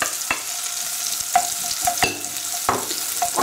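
Onion frying in melted butter in a hot pan, a continuous close sizzling hiss punctuated by sharp spatula clicks and scrapes.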